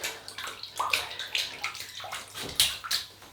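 A shaving brush is wetted in water before a vintage shave, giving soft repeated sloshes and splashes close by with no one talking.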